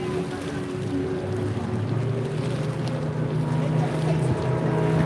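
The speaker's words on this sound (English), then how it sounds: "F2 there, 25, Graham and Marta Drew, 16-foot Phantom there, side-by-side deck arrangement, over 130 horsepower Yamaha V4" Continuous droning racing powerboat engines, including a 16-foot Phantom with a Yamaha V4 over 130 horsepower, roar steadily at close range, with wind buffeting the microphone throughout.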